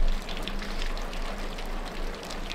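Water drips steadily down in a few places, a dense patter of close drops that sounds like light rain on a surface, continuous and fairly loud with no talk.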